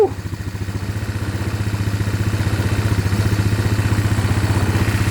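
A Suzuki Ozark 250 quad idles on choke with its air box removed, a close, steady low putter with an even, rapid pulse that holds throughout, with no talking.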